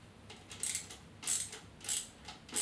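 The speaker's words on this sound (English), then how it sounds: "I'm just gonna tighten all the screws just to make sure it's" Screws on a metal light tent frame are tightened with a hand tool, giving a series of soft, close ratcheting clicks and scrapes in short repeated bursts.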